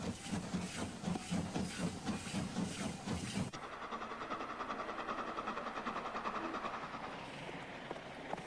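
A steam train runs with a loud rhythmic chuffing of steam exhaust, then gives way to a steady hiss and rumbling rolling noise with faint rail clatter.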